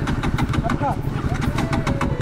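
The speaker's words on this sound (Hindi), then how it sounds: "बाइक चालू नहीं हो रहा है गाइस।" A motorcycle engine fails to start, giving repeated uneven cranking and sputtering bursts close to the microphone with a faint whine, while someone talks over it.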